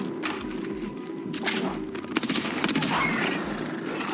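Rapid gunfire in the video game Apex Legends, with bursts of sharp cracking shots over a steady background hum, growing busier midway through.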